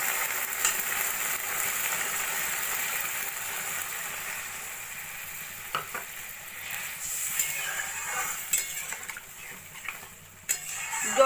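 Water is poured into a pan of Bengali mourola fish curry with vegetables and green chillies, making a steady rushing hiss and bubbling with occasional clinks of a spoon against the pan.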